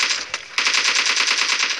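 Rapid automatic gunfire from an explosion skill in PUBG Mobile's zombie mode, a loud, dense burst of evenly spaced shots after a brief opening volley and short pause.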